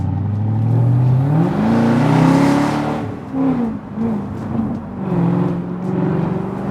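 A Jaguar F-Type sports car accelerates hard on a race track in dynamic mode, its engine note climbing steadily in pitch, easing briefly, then surging again, loud and close throughout.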